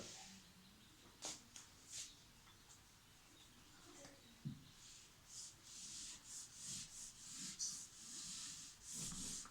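An eraser rubs maths working off a board in a Class 12 lesson, giving faint, irregular swishing strokes that come in short bursts and grow more continuous toward the end, with no talk over them.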